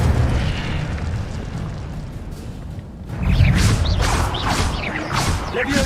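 An Incendio fire spell in Hogwarts Legacy erupts with a loud, dense roar and crackle that swells partway through and keeps rumbling, full and close.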